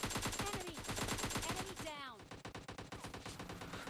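Rapid automatic gunfire rattles in PUBG Mobile Lite, loud and dense bursts of shots layered with game effects, while a voice talks over it.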